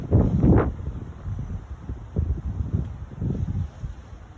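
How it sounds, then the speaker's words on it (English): Wind moves through treetops in gusts, rustling leaves, with low blustery buffeting against the microphone, a strong burst near the start and softer surges after, no voices. "The wind is blowing these trees."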